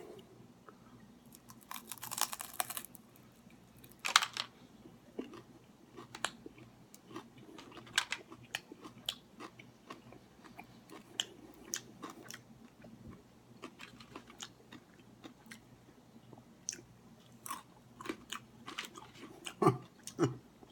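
Crunchy shrimp tail chewed close to the mic, with repeated crisp bites and wet mastication in an irregular rhythm throughout, no talking.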